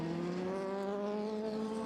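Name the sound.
Ferrari race car passing at 24 Hours of Le Mans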